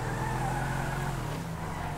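A modded GMC Sierra 2500 Extended Cab pickup truck drives in Grand Theft Auto 5, its engine droning steadily with a slight pitch drop near the end, heard alone.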